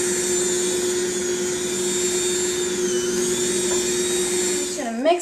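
Electric mixer running steadily as it mixes sugar cookie dough, a loud continuous motor whine with a steady hum throughout, with some talk over it and a brief shift in pitch near the end.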